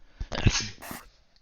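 A single sneeze bursts out amid pre-game banter between two teams in a lobby, with people talking around it and a brief sharp breath at the end.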